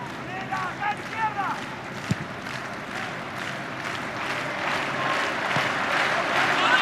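Football crowd at an Olympic match between Argentina and Paraguay clapping and roaring, a broad crowd wash that swells toward the end, with a commentator's voice and a few sharp knocks early on.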